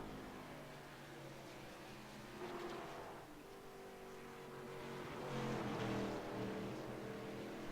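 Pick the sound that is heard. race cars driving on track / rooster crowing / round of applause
race cars driving on track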